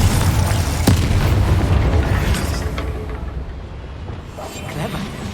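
Confringo blasting-spell explosion in Hogwarts Legacy: a heavy, booming blast with deep rumble that rolls on and slowly fades, with a few smaller pops and bursts scattered after it.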